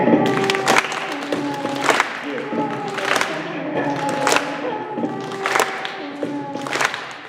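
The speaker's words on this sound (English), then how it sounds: "Everybody clap your hands." A school assembly audience claps hands in time to music with a bass line, bright crisp claps landing about once a second over the sustained musical tones.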